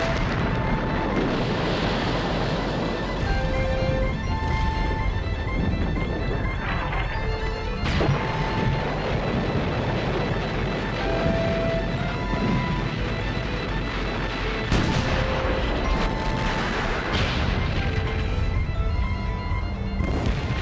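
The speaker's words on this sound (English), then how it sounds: "The Germans hit the British with a million shells in just 5 hours." A German artillery barrage shells British lines in 1918, a dense, continuous roar of crashing blasts and booms that rolls on without pause, loud and heavy throughout.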